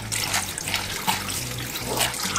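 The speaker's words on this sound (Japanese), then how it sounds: "で、最後に天然ササラでお腹周りを洗うと。" A gutted fish's belly is washed with a natural bamboo sasara brush under steady running water, with rhythmic scrubbing strokes splashing through the constant flow.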